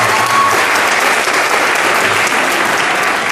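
A crowd at a stand-up comedy show claps loudly and steadily, a dense unbroken burst of applause filling the room without any talk.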